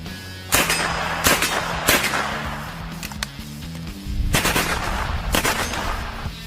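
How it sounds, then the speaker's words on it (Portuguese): Gunshots fired at the Hulk in a film scene, sharp close cracks in quick bursts and single shots over a low rumbling score. "Um dos soldados tenta matar o Hulk com tiros"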